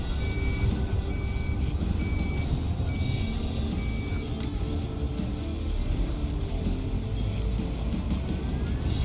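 A vehicle's reversing alarm beeps at an even rhythm in the video game Docked, sounding five times over a loud, steady engine rumble before stopping.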